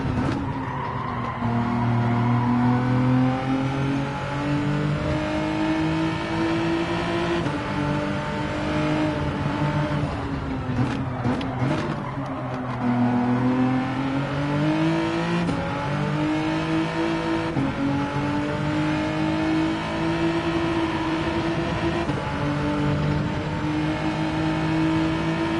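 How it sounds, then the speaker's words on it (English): A big turbocharged V8 in a Bentley-like car in the racing game GT7, driven on a mountain circuit, drones loudly and continuously, its pitch rising and falling through gear changes and throttle lifts with no talk over it. "it wasn't an EV, it was just a big V8, turbocharged V8"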